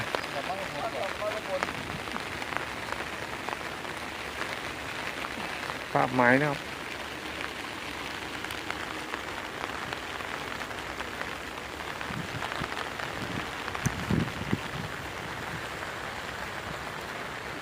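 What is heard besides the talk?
rain falling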